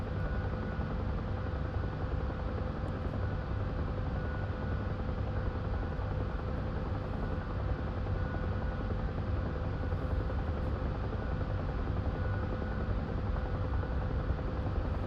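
Continuous whine and rotor thrum of a Huey helicopter in DCS's Vietnam setting, an unbroken, even engine roar lasting the whole stretch with nobody speaking.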